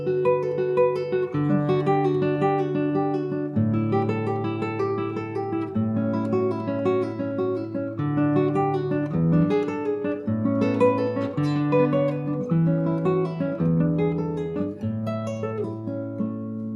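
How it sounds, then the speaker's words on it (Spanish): Solo classical guitar plays the opening part of Carcassi's Study No. 4, Op. 60, a steady flow of plucked arpeggiated notes and chord changes, close and clear with no voices. "Así que vamos directo al estudio 4 de Matteo Carcassi"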